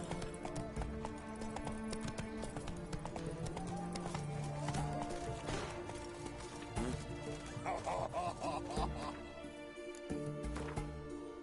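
A horse's hooves clip-clop at a gallop in the Witcher 3 video game, making a rapid, uneven rhythm with occasional whinnies, along with clattering effects and spoken game dialogue.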